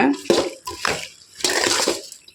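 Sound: tamarind water poured into a vegetable curry pot

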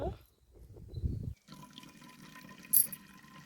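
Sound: water being poured into a cup

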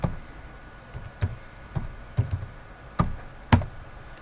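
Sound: typing an address on a computer keyboard

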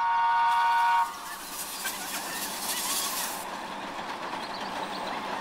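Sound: toy Thomas train running

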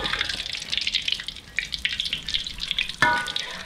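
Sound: battered shrimp deep frying in oil

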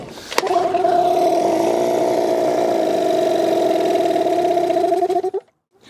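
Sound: boat motor starting on a trip to a desert island

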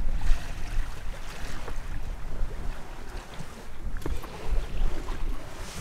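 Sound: sailing boat moving under sail without engine

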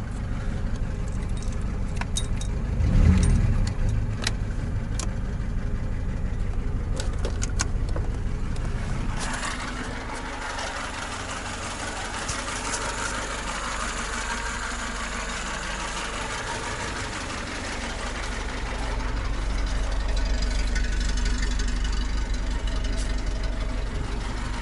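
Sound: Zhiguli VAZ-2106 car engine idling unevenly

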